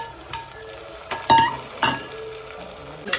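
Tomatoes hit a hot pan and fry with a soft sizzle, broken by a few sharp stirring clinks and scrapes of a utensil against the pan, close and with no voices.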